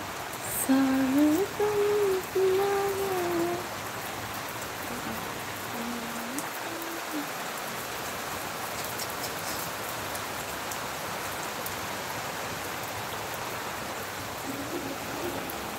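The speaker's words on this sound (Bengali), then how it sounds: "কি জোরে বৃষ্টিটা এলো দেখো" Heavy rain falling outdoors as a dense, constant wash of noise, with a brief hum or tonal voice-like sound early on and no clear speech.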